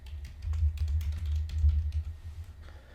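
Someone types a name on a computer keyboard, a quiet, irregular run of light key clicks over a low hum, with no talking.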